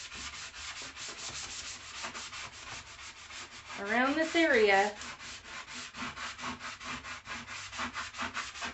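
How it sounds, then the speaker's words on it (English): Coarse-grit sandpaper rubs steadily back and forth over a mirror frame in rapid, even strokes, with a brief voice speaking over the scratching midway. "So I'm just going to keep sanding"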